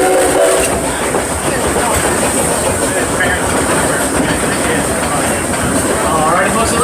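Amusement park train ride at Six Flags Over Texas, a loud continuous rumble and rattle of the moving train heard from on board, with a high steady whine and a person talking over it.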